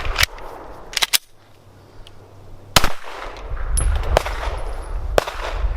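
Sharp gunshots from a Gen 3 Glock 19 9mm pistol, a handful of loud, separate cracks at uneven intervals with faint metallic pings and outdoor background noise in between.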